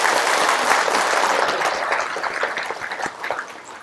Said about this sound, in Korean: 여러분 박수 한번 부탁드릴게요.